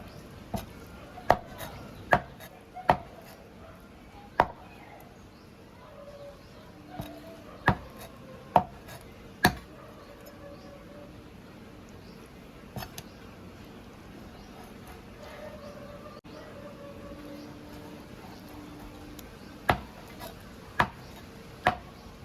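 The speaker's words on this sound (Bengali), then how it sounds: "এই যে বনলেস চিকেন নিয়ে এসেছি এটাকে ছোট ছোট পিস করে নিচ্ছি" A knife strikes a board in sharp, irregular chops while boneless chicken is cut into small pieces for Bengali-style chicken rolls, loud and close with quiet gaps between bursts.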